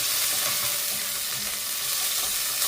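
Green chillies and onion for Sri Lankan devilled prawns are stirred in a pan, producing a loud continuous hiss and sizzle with soft scraping underneath.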